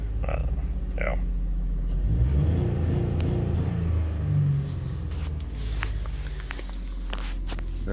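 A 2005 Honda Odyssey engine with low throttle response and faults, hanging at around 3,500 RPM, gives a steady close rumble that swells in the middle and then eases, with a few light knocks and clicks over the drone.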